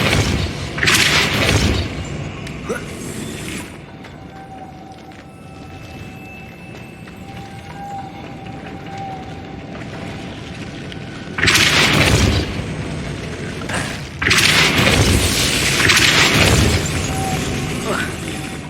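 Depulso spell blasts in the video game Hogwarts Legacy come as three loud, broad bursts, one near the start and two close together later, with a quieter game ambience between them.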